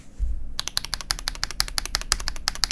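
Typing on an Asus ROG Azoth keyboard fitted with ASA keycaps gives a quick, even run of crisp, deep key clacks, close up and alone, after a soft thump at the start.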